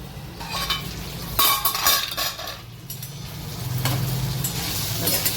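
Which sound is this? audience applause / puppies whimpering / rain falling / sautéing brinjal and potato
sautéing brinjal and potato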